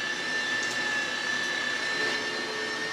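A meat grinder coarsely grinding partly frozen andouille sausage meat, a steady close motor whine with a sharp high tone, running continuously without pause.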